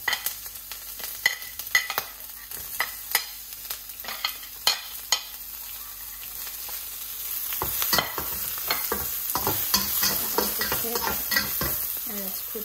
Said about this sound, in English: Now let's put in the garlic.